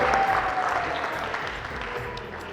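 An audience at a talent hunt game show event in Peshawar applauds the arrival of a school principal, a full burst of clapping that starts strong and slowly tapers off.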